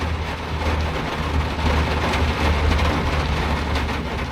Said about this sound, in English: this rain is really something